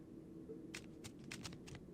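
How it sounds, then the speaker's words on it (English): Tarot cards shuffled in the video game Fahrenheit: Indigo Prophecy Remastered, five or six quick, soft riffling flicks in a row over a faint low hum. "Keep shuffling, Carla"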